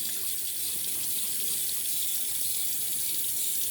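Water running steadily from a tap into a sink while the face is rinsed for a wet shave, a constant close, fairly loud gush with no voices.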